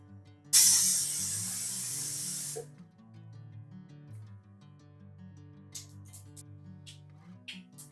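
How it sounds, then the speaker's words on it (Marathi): Mustard seeds hit hot oil with a sudden loud, bright sizzle and splutter. The sound fades after about two seconds, and a few sharp pops follow against a quiet kitchen hum. "मोहरी छान तडतडली आहे."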